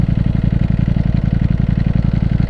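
A Ducati V4 Panigale motorcycle engine runs steadily with a deep, throbbing pulse, loud and close, with no voices over it.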